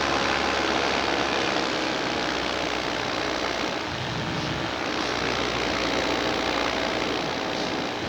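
A paramotor engine, four-stroke or two-stroke, drones steadily in flight, a loud, continuous propeller and engine roar with wind noise that holds level from start to finish.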